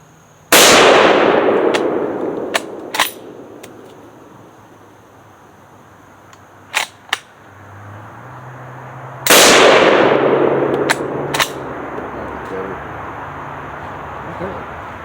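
A Spanish FR-7 rifle fires two loud, close shots about nine seconds apart, each a sharp blast with a long echoing decay, with metallic bolt clicks and clacks in between.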